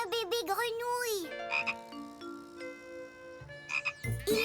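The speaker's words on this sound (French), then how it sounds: "Regarde! Un bébé grenouille." Frogs croak in a children's cartoon, a loud sequence of warbling, bouncy croaks, some sliding up and down, joined by brief chimes and a few low plops, all sharp and up close.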